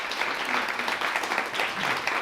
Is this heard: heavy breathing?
no